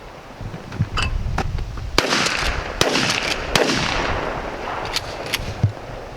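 A Mossberg 500 12 gauge shotgun fires several loud, sharp blasts outdoors at irregular intervals, each followed by a short echoing tail, with background noise between shots.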